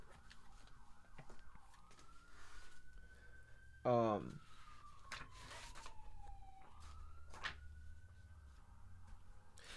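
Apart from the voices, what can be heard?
sirens in the distance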